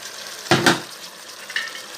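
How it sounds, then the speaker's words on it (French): A spoon stirs curry sauce with curry concentrate thinned in water through a pan for chicken curry, giving two close scraping swishes in quick succession, then a fainter brief scrape a second later over low background hiss. "Je mélange."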